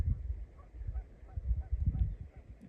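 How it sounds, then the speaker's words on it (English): A goose honks several times out on a lake in the distance over a low, rumbling background. "You can probably hear a goose out there now"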